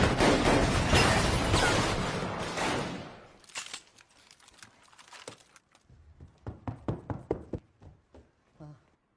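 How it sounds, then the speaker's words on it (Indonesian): A loud burst of dense, continuous noise gives way to a series of sharp, rapid cracks and thuds, a volley of gunshots echoing in a scene from the film Like a Dragon. "Mereka menghujani Kiryu dengan tembakan tanpa ampun."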